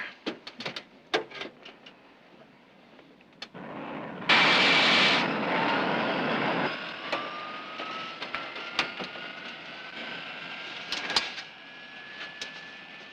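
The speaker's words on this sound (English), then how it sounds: "Left engine on." Aircraft left engine starting on a plane preparing to land, a short burst of loud roaring noise midway, then a rising whine sweeping upward amid scattered clicks and knocks, mostly quiet otherwise.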